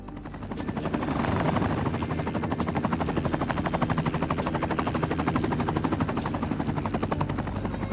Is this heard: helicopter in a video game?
yes